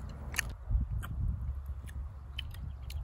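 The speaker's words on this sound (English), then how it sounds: "We're still chewing. I like gum." Close-up, soft wet chewing of gum, an irregular run of small mouth clicks and squelches over low rumble, with brief sharper snaps scattered throughout and nobody speaking.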